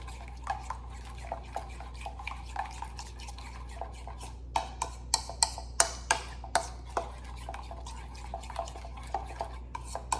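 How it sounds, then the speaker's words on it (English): A utensil scrapes and taps against a container, clearing out leftover barbecue sauce for short ribs. The strokes repeat as a series of short scrapes and clicks, louder and quicker toward the middle. "Make sure to scrape out any excess that's over so we get all of it."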